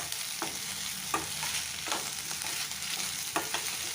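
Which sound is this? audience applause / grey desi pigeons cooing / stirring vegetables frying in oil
stirring vegetables frying in oil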